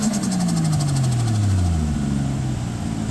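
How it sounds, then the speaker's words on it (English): A Toyota JZX110 Mark 2 with its J pipe deleted revs up outdoors in strong wind: engine pitch climbs and falls steadily over a few seconds, loud and close, with wind noise hissing throughout. "I'll give it a rev. I haven't actually heard it from out here."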